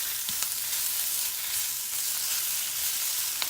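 Two onions sautéing in a pan give a steady, close sizzle with an even hiss throughout and a few faint clicks, likely from stirring, with no voices.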